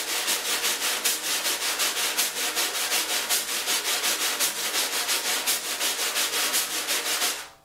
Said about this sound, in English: And if I wanted to, I can throw some accents by just pulling the brush down,